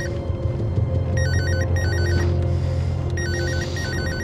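A telephone rings in a drama scene with an electronic, warbling tone in two repeated bursts over a steady low hum and background music. No one speaks.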